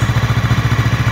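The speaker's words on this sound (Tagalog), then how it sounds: "yung tunog ng tambucho, guys." The exhaust of an FKM Expres 500 cc motorcycle idles up close in a steady, rapid pulsing putter, loud and even, with no voices.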